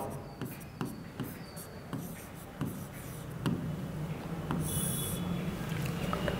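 Someone writes on a board during a thermodynamics physics lesson, with a run of short, quiet scratching strokes in an irregular rhythm, followed by a softer, steadier rubbing sound near the end.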